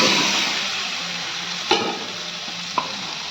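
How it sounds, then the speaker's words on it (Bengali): Potatoes and eggs go into a sizzling pan for Bengali egg and potato curry, frying with a constant hiss, followed by two sharp knocks of a utensil against the pan. "এবার আলু আর ডিমটা দিতে"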